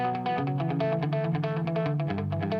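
An electric guitar riff runs through a Boss Giga Delay set to a tick delay, giving rapid rhythmic repeating pulses of picked notes that blur into a steady echoing pattern, alone and moderately loud.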